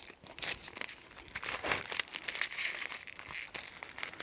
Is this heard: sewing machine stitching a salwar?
no